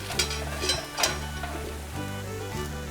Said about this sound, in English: It's going to cook in a liquid of butter.